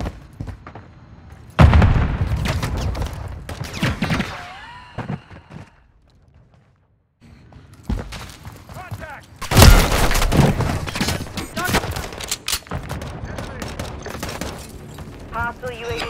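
Grenade blasts and rapid gunfire in the shooter game Call of Duty: Modern Warfare III: two heavy, loud booms about eight seconds apart, each followed by dense crackling bursts of shots, with voices calling out between them.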